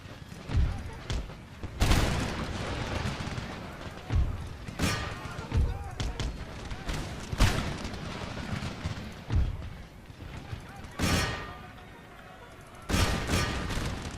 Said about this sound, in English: Keep firing, lads!